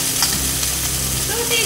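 Onions hit a hot pan and sizzle loudly and continuously for a brief moment, with a faint utensil scrape near the end.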